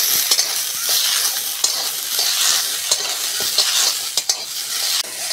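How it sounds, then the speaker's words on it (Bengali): Peas fried and stirred in a pan give a steady sizzle, with repeated scraping clicks from stirring through about five seconds, close and fairly loud, with no voices. "হালকা করে মটরটা ভেজে নেবো, তাহলে মটরে খুব সুন্দর একটা সেন্ট আসবে।"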